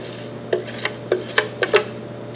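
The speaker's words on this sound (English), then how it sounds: "Stir it around a little bit." Rice, water and salt being stirred together in a cooking pot, giving a handful of short, separate scrapes and clinks at an uneven pace over a low, steady background hum.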